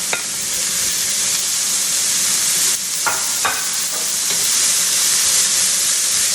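Peppers fry in a hot skillet with a loud, continuous sizzle, with a few scraping stirs breaking through the steady hiss.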